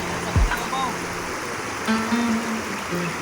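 Continuous rush of river water flowing nearby, steady and broadband, with a few faint voice fragments and brief tonal sounds over it.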